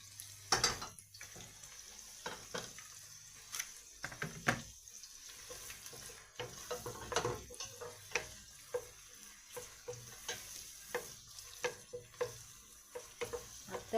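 Onion and garlic sauté briefly in a pan for pork menudo, a faint soft sizzle broken by intermittent taps and scrapes of a spatula, with no voices.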